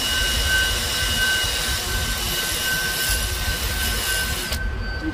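A drill bores steadily into a broken exhaust manifold bolt on a Volvo B7 double-decker bus engine, a continuous close grinding whir with a thin steady whine, running alone without a break.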